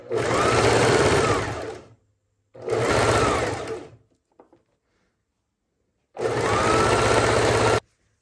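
A sewing machine stitches a sleeve seam on a suede knit pajama blouse with a backstitch, running in three loud, close bursts of rapid stitching separated by short pauses, with no talk.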